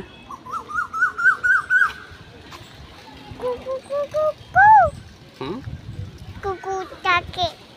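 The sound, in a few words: bird calling outdoors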